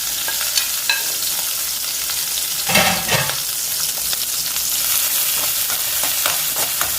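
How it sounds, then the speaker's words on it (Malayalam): Garlic, ginger and green chilies frying in hot oil for a homemade lime pickle, a steady close sizzle with a louder burst of crackling midway as they are stirred. "ഇതെല്ലാം കൂടി നമുക്ക് ഇതിനകത്ത് ഇട്ടിട്ട് ഒന്ന് മൂപ്പിച്ചു കൊടുക്കാം"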